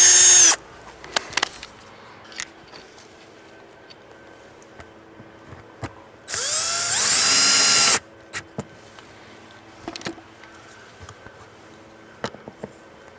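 A drill driver drives drywall screws while mounting a Ring Spotlight Cam Plus, with a short loud whir at the start and a longer burst of about two seconds midway, separated by quiet clicks and handling.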